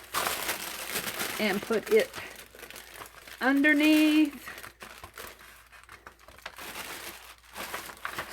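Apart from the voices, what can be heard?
handling a piece of wax paper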